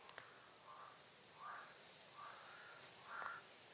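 Several crows caw in turn outdoors, four distinct calls spaced about a second apart, moderately distant over a steady background hiss, with no talking.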